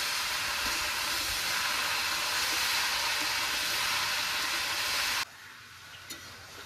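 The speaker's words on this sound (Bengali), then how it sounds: "লাউটাকে একটু নেড়ে চেড়ে নেবো, ভালো করে কষিয়ে নেবো লাউটাকে।" Bottle gourd being stirred and sautéed with fried shrimp in a pan gives a steady, close sizzle and hiss. It runs continuously, then drops to a much quieter level near the end.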